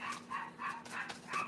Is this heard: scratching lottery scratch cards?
no